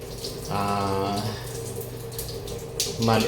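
Water runs from a tap in a chilly home in Baguio as the handle is turned toward warm, a steady close rush with tonal pipe whine, while a person talks over it.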